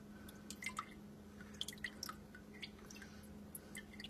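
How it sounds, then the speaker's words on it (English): Water drips and splashes in soft, irregular drops as it is poured off a soil sample for a science project, faint and close with no talking. "Pour as much of the water as you can."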